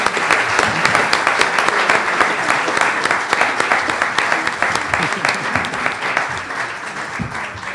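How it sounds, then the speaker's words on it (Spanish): An audience at a panel applauds a speaker being introduced, loud sustained clapping from many hands that fills the whole stretch, easing slightly toward the end. "Un aplauso, por favor, para el ingeniero Guillermo Garmendia Leal."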